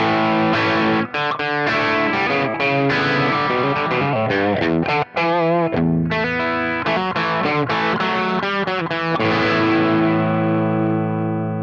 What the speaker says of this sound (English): we have the amp boost set up to control switch 1